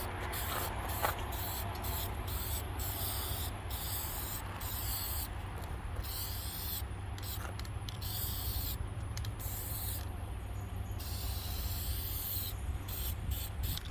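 A rattle can sprays paint during a Toyota JZX100 interior rebuild: steady close hissing in repeated bursts with short pauses between passes, over a constant low background hum.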